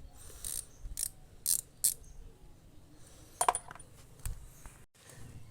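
Handle of an adjustable, bendable ratchet screwdriver from PWD being turned and handled up close, giving short metallic clicks and ticks in small, uneven bursts.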